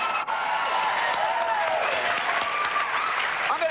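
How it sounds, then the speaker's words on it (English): A studio audience at a late-night talk show breaks into sustained, dense applause that holds steady throughout, with voices faintly underneath. "Look at the claps."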